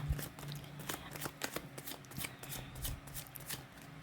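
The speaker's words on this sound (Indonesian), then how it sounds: "saya kocok kartunya" Tarot cards being shuffled by hand, a quick run of close, crisp riffling flicks and soft slaps repeating steadily, with no talking.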